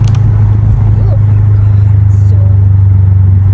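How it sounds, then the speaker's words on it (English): A loud car with a boxer engine drives along a rural road at night, a deep continuous droning rumble close and steady throughout, with a voice speaking faintly over it. "your car's so loud"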